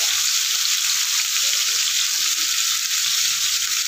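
Bitter gourd and onion frying in oil, a loud, dense hiss of sizzling that holds evenly throughout with no talk.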